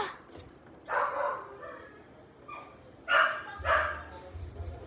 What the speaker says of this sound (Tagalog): Bagong dog yan eh.